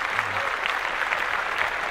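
Steady broadband applause from a podcast audience, a dense continuous wash of claps filling the short stretch without distinct individual hands.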